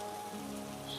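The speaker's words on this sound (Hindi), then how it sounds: "सिर्फ बारिश की हवा और हार्टबीट ही सुनाई दे रही थी।" Rain falling as an effect in a narrated story: a steady, dense hiss of drops on a surface, continuous and even throughout, with no voices.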